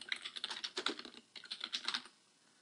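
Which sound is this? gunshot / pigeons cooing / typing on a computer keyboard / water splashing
typing on a computer keyboard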